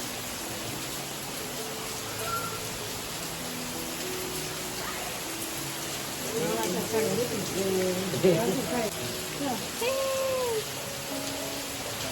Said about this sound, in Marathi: एक तासापासून पाऊस चालू आहे